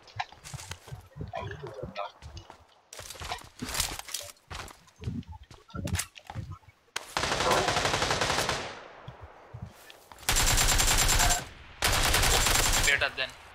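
Gunfire from the PUBG Lite battle royale video game: several loud bursts of rapid automatic fire, the longest running two to three seconds, separated by short gaps, with a player talking over the earlier part.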